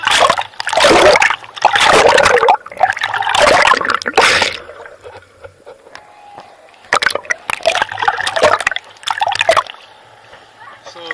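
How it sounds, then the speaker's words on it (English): Water splashes and churns up close as someone swims in the sea at Santa Maria, Cuba. The bursts of splashing come in uneven waves, mixed with the wash of the water and some speech. "I'm just gonna go for a quick swim."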